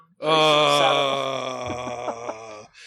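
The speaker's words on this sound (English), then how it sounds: "I was retching." A man retching with a strained, voiced groan held for about two and a half seconds, loud and close, with no other sound around it.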